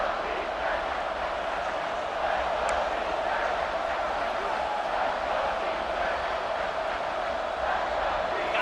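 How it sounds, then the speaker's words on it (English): Stadium crowd in the College Football 26 video game rumbles steadily throughout as energy builds before a big third-down play, a dense, continuous roar with no clear voices standing out. "The crowd elevating its energy, willing this defense to get a stop on this big 3rd down."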